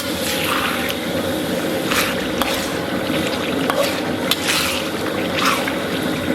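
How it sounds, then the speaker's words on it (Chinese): Stir-frying Northeastern soybean paste, yellow bean paste, chili sauce and hotpot base in a wok, with a steady close sizzle and scraping stirs throughout, no voices. "咱们给它炒出香气"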